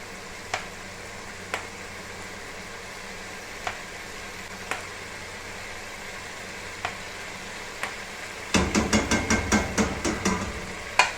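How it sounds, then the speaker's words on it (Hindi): Chicken shashlik frying in a pan gives a faint steady sizzle broken by occasional sharp taps, then chili sauce goes in and sets off a burst of louder crackling and rapid spoon clacks near the end. "अब हम इसमें डालेंगे जी 4-5 चम्मच बड़े वाले चिली सॉस के"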